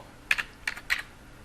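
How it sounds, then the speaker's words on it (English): A web address is typed on a computer keyboard in three quick bursts of close, crisp key clicks, with short gaps between them. "We can then type in the address for Google's homepage, www.google.com,"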